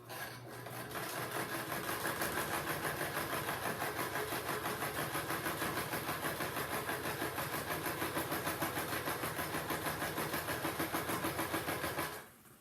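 A sewing machine stitches along the edge of a bench or box cushion cover with a half-inch seam, running fast and steady at close range for about twelve seconds with no talking.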